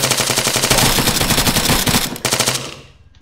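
Video game automatic gunfire rattles in a loud, rapid continuous burst that fades out at the end.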